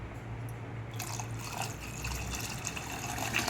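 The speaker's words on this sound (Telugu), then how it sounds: "మనం దీని మీద కొద్ది వాటర్ వేసుకోవాలి" Water pours steadily into a cooking pot of tamarind for Nellore fish curry, making a continuous splashing hiss that grows fuller after the first second.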